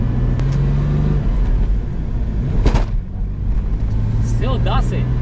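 A $2700 Porsche on the move with a suspected worn transmission mount, its engine rumbling steadily close by, with a couple of sharp knocks and a whining rise near the end.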